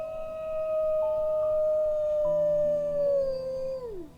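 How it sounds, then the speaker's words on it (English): A wolf lets out one long, loud, mournful howl close by, holding a steady pitch for several seconds before sliding downward and fading out at the end, with no other sounds around it. "The howl resonated through the house."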